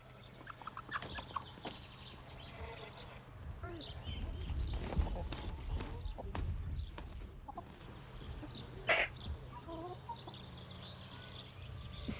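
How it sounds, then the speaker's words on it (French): Rooster and hens in a farmyard, with scattered clucks and calls over steady low background rumble, a sharper bird cry standing out near the end; mostly animal sounds without clear talk. "Le coq pousse son cri pour montrer qu'il est le plus fort sur son territoire"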